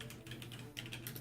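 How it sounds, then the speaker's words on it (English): Fast typing on a clicky mechanical computer keyboard, close up, with a rapid irregular run of sharp key clicks over a steady low hum and no speech. "I've got a very clicky-clacky keyboard"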